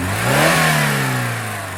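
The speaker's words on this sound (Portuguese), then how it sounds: "E esse aqui é o motor do Fiat Argo Trekking que eu estou mostrando para você." Fiat Argo Trekking's 1.3 Firefly Flex engine revs up and settles back, a strong, close, steady engine note that rises in pitch then eases, with no talking.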